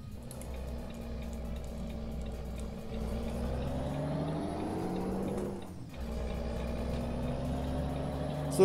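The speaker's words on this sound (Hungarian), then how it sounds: "Szóltak, hogy nagyon hangos a kamion." A heavy truck engine in Euro Truck Simulator 2 drones steadily, its pitch rising as it revs, then drops briefly before settling back into a constant rumble.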